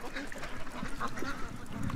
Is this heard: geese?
yes